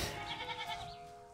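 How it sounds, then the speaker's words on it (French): A clingy pet goat bleats once in a long, wavering nasal cry, near and fairly loud, with no talk over it. "la chèvre me réclame, elle est vraiment très collante"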